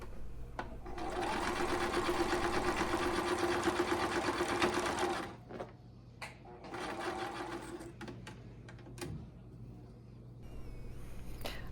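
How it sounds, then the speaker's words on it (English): Sewing machine stitching down the sides of a fabric hat: a steady close-up mechanical whir for about four seconds, a pause with light clicks, then a shorter second run. "All right, let's start sewing."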